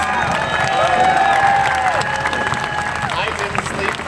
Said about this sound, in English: you guys need to clap for this